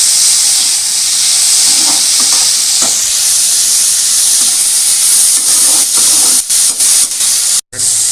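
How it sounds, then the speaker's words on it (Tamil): Karunai chutney ingredients sauté in a pan with a continuous loud sizzle and hiss, broken by occasional stirring scrapes and brief gaps near the end. "நல்லா வதக்கிடுங்க."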